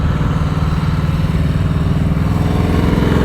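A motorcycle engine runs at a low, steady throttle during slow-speed riding practice, giving a continuous close drone with a fine regular pulse and no talk over it.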